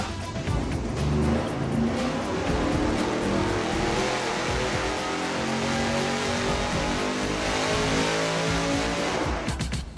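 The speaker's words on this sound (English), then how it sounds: "Now the very last of our straight through mufflers, the Borla." A 1,000 HP engine fitted with a Borla straight-through muffler roars at sustained high revs, loud and raw for nearly ten seconds before cutting off abruptly at the end.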